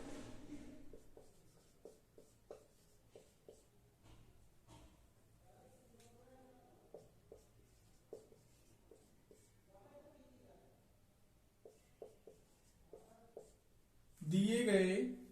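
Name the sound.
writing a math solution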